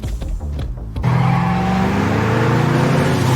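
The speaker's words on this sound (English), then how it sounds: "Casually, Katie walked out and fled in Luis' car" A car starts off and drives away, its engine note rising steadily as it accelerates into a loud, sustained roar after a brief burst of other noise at the start.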